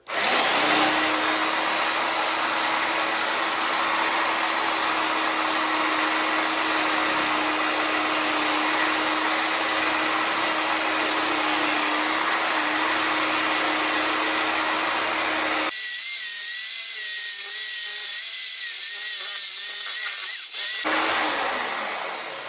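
A power tool cuts through the skull cap of a deer head, giving a loud, steady high-pitched whine that holds for about fifteen seconds, then drops to a lower, quieter tone before revving briefly again.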